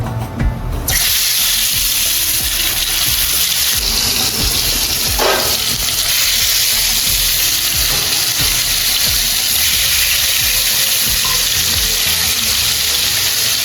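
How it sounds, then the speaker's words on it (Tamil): Marinated chicken frying in oil in a home kitchen for chicken mandhi biryani: loud, steady sizzling and crackling fills the whole stretch, with a few brief stirring clatters and a short sharp click partway through. "நாங்கள் ஒயில் ஊற்றி சிக்கனை ஃப்ரை பண்ணி எடுத்துக்கிறோம்"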